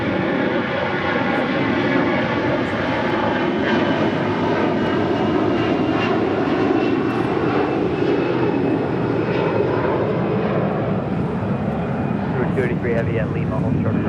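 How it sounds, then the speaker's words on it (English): Airbus A350-1000 widebody jet arriving from London and landing on the south side at LAX: a constant, loud engine roar and rushing air with whining tones that shift slightly near the end, while a voice talks over it. "the A350 1000 coming in from London, landing here on the south side as well"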